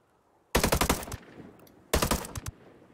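Automatic rifle fire in the Ghost Recon Breakpoint video game, aimed at an approaching convoy: two sharp, loud bursts of rapid shots about a second apart, each with a quick rattling cadence and a brief tail.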